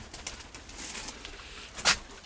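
Pigeons coo softly amid outdoor ambience, with a sharper burst near the end that could be a flutter or call.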